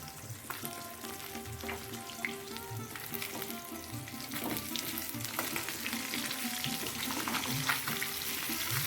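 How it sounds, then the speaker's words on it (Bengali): Pieces of katla fish fry in hot oil in a pan, a steady sizzle and crackle, a dense frying hiss that swells slightly, with an occasional utensil clink. "মাছগুলো এবার আমার উল্টে পাল্টে ভালো করে ভাজা হয়ে গেল"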